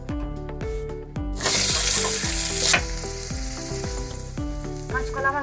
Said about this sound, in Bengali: ওই তেলে দিয়ে দেবো কাঁচা কলা